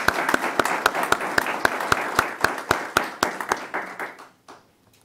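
A reception crowd gives a round of applause for six National Board Certified Teachers, with dense, rhythmic clapping close by that tapers off and fades to quiet in the final second.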